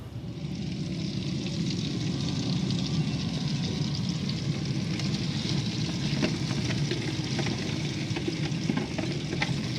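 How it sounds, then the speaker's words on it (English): Pork chops and potatoes sizzle in bubbling oil in a tray on a pellet or kettle grill. A loud, steady frying hiss with crackles and spits continues without a break, and no one talks. "You can see that oil just kind of bubbling there in the corner."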